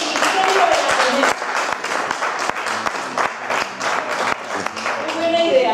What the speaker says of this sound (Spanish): un aplauso, divulgadores del Misterio del Ateneo